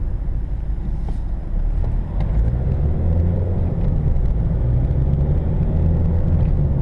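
A car goes by on a road near an accident-prone roundabout by the A11, heard from inside a moving vehicle as a loud, steady rumble and whir of road and engine noise throughout.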